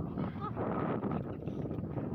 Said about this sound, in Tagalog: Lakas din naman talaga ng hangin guys.